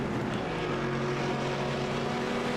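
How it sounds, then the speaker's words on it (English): Racing car exhaust note from the iRacing sim at Phillip Island, a steady loud droning engine buzz held throughout with no gear changes or pauses. "I do love the sound of the thing. It's hard to beat that exhaust note."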